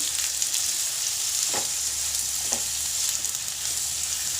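Amla pieces and jaggery are stirred together in a pan, giving a steady soft sizzle with a couple of brief scraping strokes, close and without talk.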